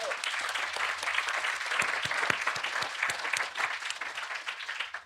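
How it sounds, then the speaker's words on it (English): A small audience applauds steadily, with close, dense clapping that carries through the whole clip. "A round of applause for that"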